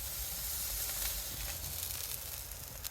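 Ribeye steaks sizzle loudly and steadily on a hot Weber Summit Kamado grill, a close, crackling hiss with occasional pops and no talking.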